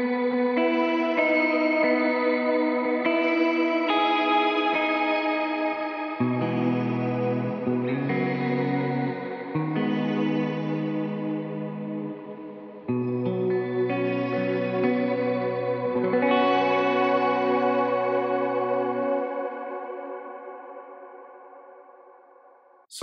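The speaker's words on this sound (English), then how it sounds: "here is my shimmer reverb that I made, and it sounds really good." Sustained guitar chords washed in a shimmering, octave-up reverb from a Strymon pedal that swells and blooms between changes, then slowly fades out to silence.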